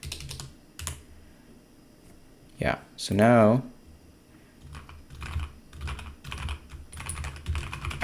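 Typing on a HyperX Alloy Origins Core keyboard with lubed keys and stabilizers, a steady run of soft close keystrokes with a loud burst partway through and a brief bit of talk.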